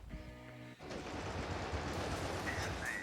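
The Mach machine gun in Tacticool rattles off a rapid, sustained burst of automatic fire after a brief moment of other game sound, each shot blurring into a dense, loud stream.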